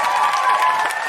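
A brief burst of audience applause mixed with cheers fills a live comedy show at the Edinburgh Fringe. The crowd noise is close and steady for just over a second.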